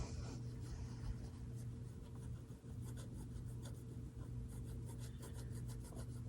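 A pen scratches across paper while making a Zentangle drawing: soft, close, repeated short strokes in an uneven rhythm over a quiet indoor hum, with no talking.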